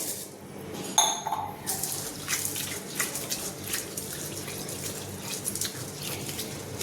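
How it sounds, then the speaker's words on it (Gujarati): Water runs steadily from a tap with a soft splashing hiss as split pigeon peas (toor dal) are rinsed in a bowl, with brief clinks near the start. "તુવેરની દાળને બરાબર ધોઈ લેવાની છે"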